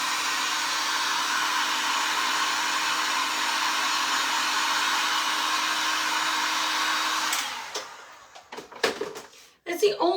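A hair dryer blows loud and steady at close range drying paint on farmhouse decor, then switches off, followed by scattered knocks and handling clatter.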